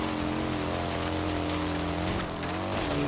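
Steady engine drone of a car held in fifth gear in Forza Horizon 3, a continuous loud harmonic hum with little change in pitch, alone without talk.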